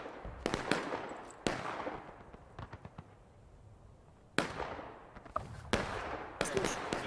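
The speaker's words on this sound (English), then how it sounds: "I think it's because they're shooting at us and missing and going over" Musket volleys in the Civil War game War of Rights crack out in sharp, scattered shots, some close and loud, others thinner and farther off, with short lulls between bursts.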